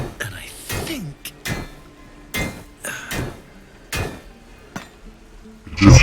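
Armor being hammered in Baldur's Gate 3: a series of sharp metallic strikes at irregular intervals, loud and close, with quiet stretches between blows.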